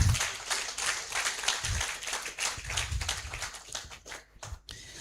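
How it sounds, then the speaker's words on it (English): An audience at a national forum claps for Ghana, many hands clapping in a steady, close crowd of applause that thins out and fades toward the end. "I invite you to clap your hands for Ghana"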